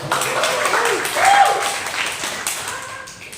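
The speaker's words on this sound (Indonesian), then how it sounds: "beri tepuk tangan buat Gio" A classroom of students applauds a classmate after a physics lesson, giving a short burst of scattered, close clapping with some voices mixed in.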